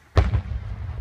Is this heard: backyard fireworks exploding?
yes